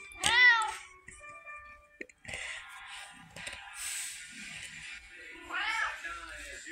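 A red tabby cat meows loudly and up close twice, with a long drawn-out cry at the start and another near the end, while a person talks softly in between.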